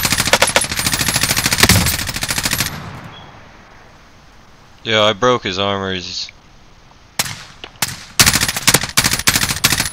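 Loud bursts of automatic game gunfire rattle at the start and end, with someone speaking briefly in the quieter middle stretch.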